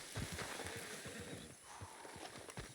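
Horse from the video game Red Dead Redemption 2, a rapid clip-clop of hooves with a whinny near the start, close and steady over faint background ambience.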